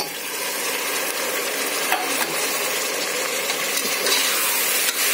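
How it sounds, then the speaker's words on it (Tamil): Five medium tomatoes sauté in a pan for chicken biryani, producing a steady, fairly loud hiss with faint scraping from stirring and a low background hum throughout. "தக்காளி நல்லா கொழ கொழன்னு வதங்கி வரணும்."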